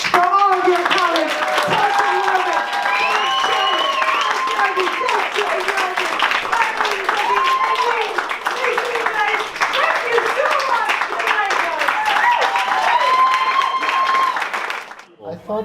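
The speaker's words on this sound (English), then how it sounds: "let's have one more round of applause for all your comments" A large audience claps in one loud, continuous round of applause, with cheering and chattering voices woven through it, before it cuts off at the very end.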